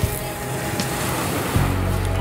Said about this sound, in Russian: Мы сейчас пришли на море,